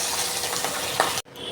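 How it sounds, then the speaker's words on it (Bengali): Fish head frying in hot oil gives a steady, close, dense sizzle and crackle that runs continuously, then cuts off abruptly before a softer hiss resumes. "মুড়ো ভাজা হয়ে গেছে, খানিকটা আরও মুড়ো ভাজা আছে।"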